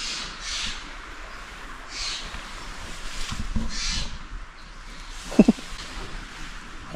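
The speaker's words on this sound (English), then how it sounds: "Damn birds." Crows caw from nearby trees at a campsite in Big Sur, California, several harsh, repeated calls spaced a second or so apart over a quiet outdoor background, followed by a few close rustles and knocks.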